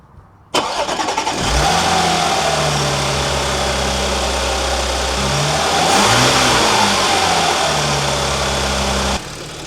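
An Audi S4 B8 with a 3.0T engine and a Kyostar intake cranks and fires up, then settles into a loud, steady idle with a brief rev around the middle, close by, with no talking.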